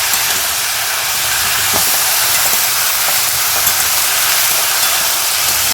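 Mixed winter vegetables fry in a pan, giving a steady, fairly loud hiss and sizzle that continues evenly throughout with no voices.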